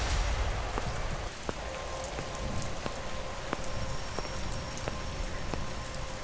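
Heavy rain pours on a dark, deserted street at night, a steady dense hiss with scattered sharp drop impacts, close and continuous throughout with no voices.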